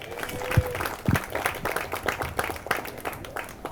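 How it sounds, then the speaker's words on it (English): Guests at an engagement party give a round of applause for Akil, a brief burst of clapping that rises and tapers over a few seconds, fairly close with a little chatter. "Big round of applause one more time for Akil, everybody."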